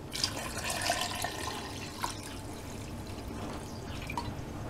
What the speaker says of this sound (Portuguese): Vamos pôr aqui a água.